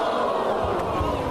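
Steady wash of arena crowd noise from a WWE broadcast, a dense roar and murmur of many voices with faint shouts, holding at an even level throughout with no individual speech.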